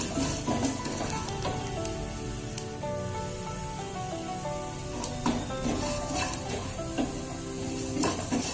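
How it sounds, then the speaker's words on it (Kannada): Fenugreek and spices frying on a low flame in a pan give off a steady soft sizzle, punctuated by scraping stirs and occasional metallic clinks of a spoon against the pan. "ಸಣ್ಣ ಉರಿನಲ್ಲಿ ಫ್ರೈ ಮಾಡ್ಕೊಳ್ಳಿ, ಅದು ಸ್ಮೆಲ್ ಬರೋವರೆಗೂ ಫ್ರೈ ಮಾಡ್ಕೊಳ್ಳಿ"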